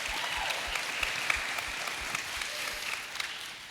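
Applause from an audience filling the room, a steady dense patter of clapping that runs throughout without a break.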